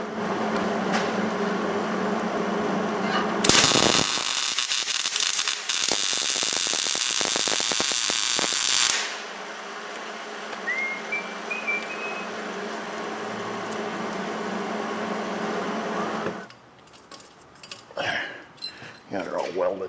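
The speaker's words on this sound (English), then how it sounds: "Got her all welded." Welding on a Ford Ranger's broken rear shock mounts: a loud, steady crackling burst of about five seconds, followed by quieter shop noise and a few brief clanks.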